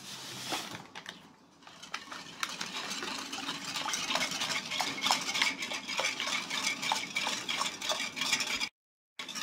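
Strawberry jelly being stirred until it dissolves for a chilled custard, jelly and biscuit dessert: a spoon scrapes and clinks rhythmically in a vessel, close and fairly loud, briefly pausing near the end, with no talking.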